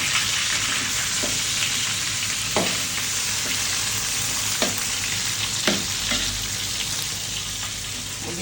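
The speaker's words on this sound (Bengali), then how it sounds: "মুরগিটাও মোটামুটি ভাজা হয়ে গেছে।" Chicken frying in a pan with onion crackles in a continuous close sizzle, broken by occasional scraping stirs, with no talking.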